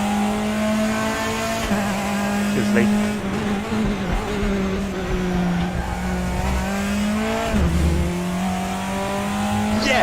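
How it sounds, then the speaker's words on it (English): Race car engines on the Bathurst circuit in RaceRoom, a loud near engine droning and shifting pitch through gear changes with brief tyre noise, while someone talks briefly over it. "There's a car leaving the pits."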